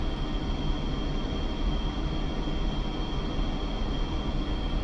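A MiG-29S jet taxis slowly at walking speed in the DCS flight simulator, giving off a steady, even engine rumble with a thin constant whine above it, unbroken and without voices.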